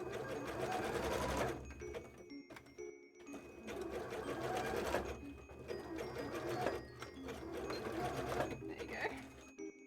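A sewing machine stitches cosplay gloves in quick, continuous mechanical bursts that stop and restart several times, with a person talking over and between the runs.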